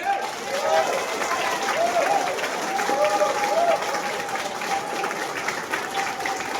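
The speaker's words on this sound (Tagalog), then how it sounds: "Pwede bang lakasan yung palakpak ninyo sa PGH?" A large crowd at a public event applauds and cheers loudly and continuously, with voices calling out above the dense clapping.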